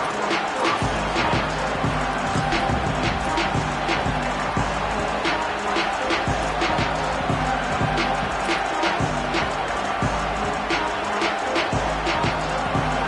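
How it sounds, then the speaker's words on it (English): A stadium crowd in an NCAA college football video game keeps up a steady roar, with rhythmic thumps and claps repeating throughout. The noise holds at a constant, fairly loud level for the whole stretch. "This crowd ready to make its presence known."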